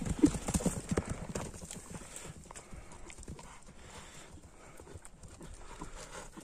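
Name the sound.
horse hooves clip-clopping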